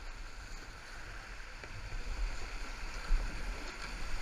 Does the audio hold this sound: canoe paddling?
yes